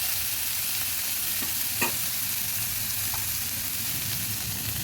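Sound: pomfret fish masala frying and being stirred in a pan

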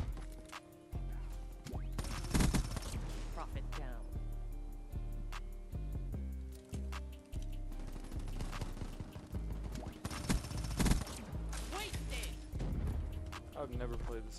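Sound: LV8 Basilisk gun firing in Call of Duty Black Ops 3, video game

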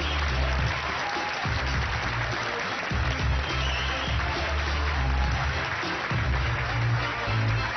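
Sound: studio audience applause

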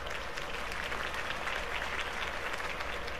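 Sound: crowd applause after a campaign speech

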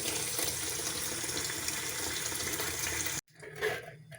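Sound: tomatoes being washed under running water

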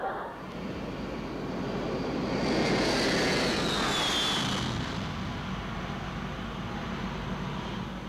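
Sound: airplane of a BWIA Sunjet flight to London

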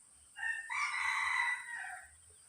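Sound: rooster crowing

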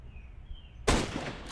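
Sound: gunshot in a shooter video game

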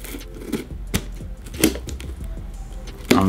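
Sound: cutting packing tape on an Ice Box shipping box

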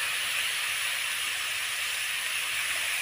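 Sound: pork belly frying in oil in a pan

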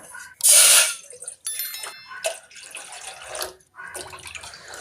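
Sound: water poured into cooking pot on stove

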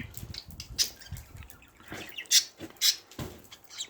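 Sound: budgerigars outdoors in snowy weather

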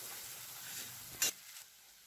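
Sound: spices sizzling while sautéing in a pan for brinjal curry

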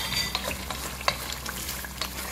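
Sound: stirring and frying dried pepper sauce with prawns

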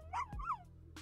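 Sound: dogs barking in The Sims 4 video game

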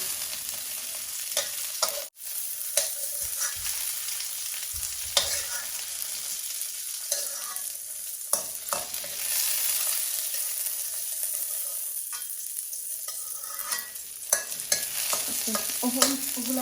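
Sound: frying green chillies in a pan

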